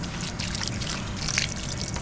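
Water is poured steadily onto a grave in a cemetery, a continuous splashing trickle that is close and fairly loud throughout, with no clear talking.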